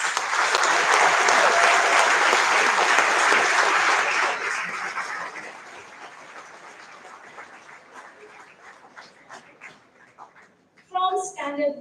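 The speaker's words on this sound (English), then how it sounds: "Come on, one big round of applause." Loud, full applause from an awards ceremony audience at a school academic excellence event, strong for four seconds then tapering into scattered claps before a voice speaks at the end.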